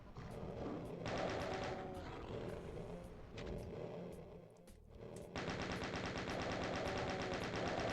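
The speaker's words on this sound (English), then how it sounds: "So, chain gun all the way" A Doom II chaingun fires in long rapid bursts, its rattling shots loud and continuous, pausing briefly before resuming at full pace.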